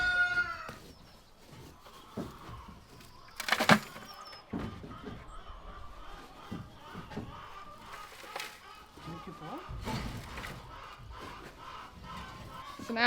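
Chickens cluck around a coop being cleaned out, with the flock moving to an egg mobile. A sharp crow-like squawk rises briefly above steady scuffling and handling noise, and people speak over parts of it.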